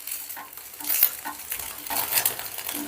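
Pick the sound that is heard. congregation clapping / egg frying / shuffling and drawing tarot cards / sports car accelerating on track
egg frying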